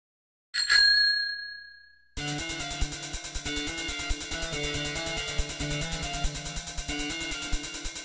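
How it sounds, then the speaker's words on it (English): A single bright bell ding rings out clearly and decays, followed by rhythmic background music. "And don't forget to ring that bell."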